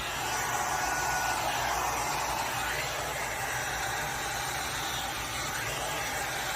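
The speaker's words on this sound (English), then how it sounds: "So this is a 3-in-1 Air Styler from Envy." Envy 3-in-1 Air Styler blowing on a synthetic wig: a steady, loud, close whoosh of hot air running continuously without a break.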